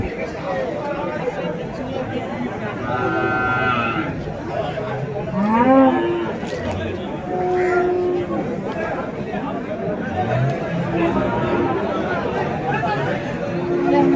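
Cattle moo repeatedly at a livestock market in Uthangarai, Krishnagiri district, with native breed cows and bulls, sustained lowing calls rising over a steady crowd chatter and someone speaking nearby throughout.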